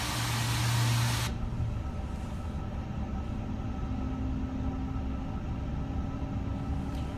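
An A350 jet engine spinning up in a flight simulator game, a steady low rumble and whine that stays even throughout after a brief louder opening, with no talking.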